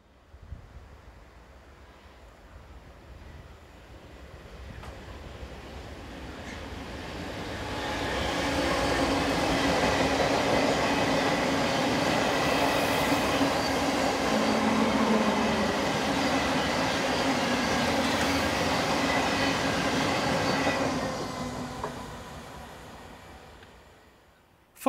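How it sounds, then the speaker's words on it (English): Locomotive 66126 hauling a Carlisle to Crewe engineer train through Settle station, building from distance to a loud, sustained rumble and squeal of wagons passing close, then easing away. "66126 passes with the 1226 Carlisle to Crewe Engineer Service"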